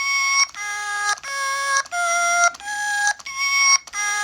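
An electronic toy plays a simple synthetic singing tune: a steady series of bright, beeping electronic notes at an even pace, close and clear, with no talking over it.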